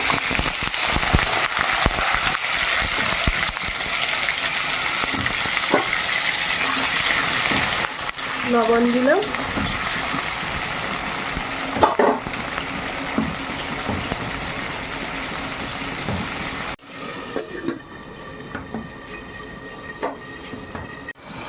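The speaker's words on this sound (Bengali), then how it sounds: "কড়াই তেল দিয়েছি, তেলটা গরম হয়ে গেছে। এবার আলুটা ভেজে নেব।" Potatoes fry in hot oil in a wok in a village kitchen: a steady, dense sizzling hiss runs for most of the clip with a few brief spoken words over it, then drops away near the end.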